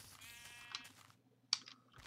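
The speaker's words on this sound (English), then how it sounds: "Let's say I need to shear these sheep." A Minecraft sheep bleats twice in short bursts, near and fairly clear, with some faint clicking between.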